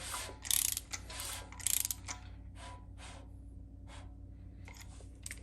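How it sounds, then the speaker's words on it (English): An engine crankshaft is turned slowly by hand during an oil pump and pickup tube install, with quiet ratcheting clicks in short bursts and pauses over a low background hum, close by and with no talking. "Rotate the crank. We'll go 2 rounds."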